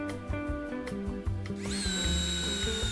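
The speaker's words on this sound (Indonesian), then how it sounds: "Dan kita akan coba untuk ngebor sekali lagi." A Doliz BD637 cordless brushless drill bores through wood, its motor whine rising in pitch partway as it speeds up, loud and close with steady grinding beneath and no talking.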